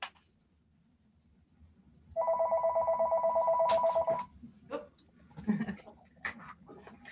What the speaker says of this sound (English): Someone's phone's ringing.